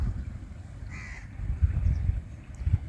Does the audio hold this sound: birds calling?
yes